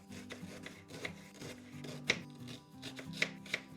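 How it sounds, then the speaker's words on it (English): A knife cuts an onion into large slices on a board, making a steady series of close, crisp chops and scrapes, with a few sharper knocks standing out and no talk. "Next, we're going to cut up an onion, and I'm going to make it into fairly big slices"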